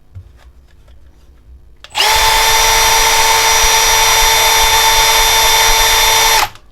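A Milwaukee M18 cordless drill with a full battery runs at its second speed setting, about 1800 rpm, a loud steady motor whine that starts abruptly after a quiet moment and cuts off after several seconds.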